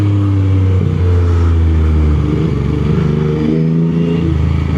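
A 2021 Yamaha MT-09 naked motorcycle engine runs loud and close, a steady throbbing drone with shifting revs and no voices over it.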